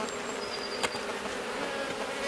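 Wild honeybee colony buzzing during a hive rescue in Nairn in April: a dense, continuous hum of many bees close by, with faint whines of individual bees passing and one brief knock, no voices.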